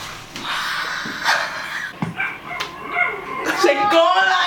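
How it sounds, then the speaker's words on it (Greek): Several puppies bark and yip close by in short, high, irregular bursts with some whimpering, while people talk and laugh over them. "Πάμε να δούμε σκυλάκια. Dogs."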